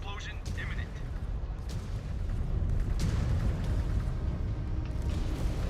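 A video game reactor breach explosion rumbles as a heavy, sustained boom that swells and holds loud for several seconds, with a voice speaking over it.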